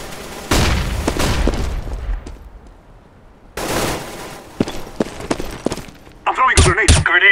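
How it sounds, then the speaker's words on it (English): A flashbang grenade in Counter-Strike goes off amid sharp bursts of gunfire and heavy booms, several loud impacts separated by a quieter gap, with in-game voice lines heard as well. "Throwing flashbang."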